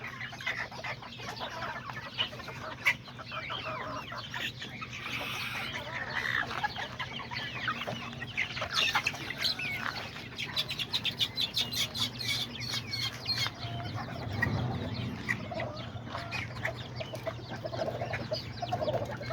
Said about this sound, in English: I also got some of the chickens that are sitting on eggs